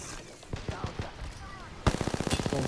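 Gunfire in the video game Apex Legends during a squad battle: a few scattered shots early on, then a loud, rapid burst of automatic fire near the end, with faint game ambience between.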